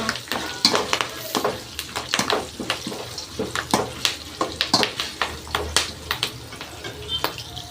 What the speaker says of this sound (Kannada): ಇಷ್ಟು ಕರಿಬೇವು ಹಾಕ್ತಾ ಇದ್ದೀನಿ ಸಿಡಿಯುತ್ತೆ